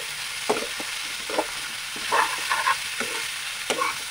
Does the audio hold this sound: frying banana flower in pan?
yes